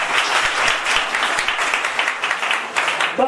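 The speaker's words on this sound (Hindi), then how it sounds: "फिर से एक बार आप सबके लिए जोरदार ताली हो जाए" Loud, sustained applause from a live audience at a speech, dense clapping filling the whole stretch without a break.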